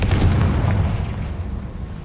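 Confringo fire spell explodes in Hogwarts Legacy, a loud, deep booming blast with heavy low rumble that decays over a couple of seconds, alone without any talk.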